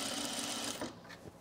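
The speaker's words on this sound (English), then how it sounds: "Just gonna top stitch" A sewing machine topstitches a shirt shoulder, a steady close whirring run that slows and fades near the end.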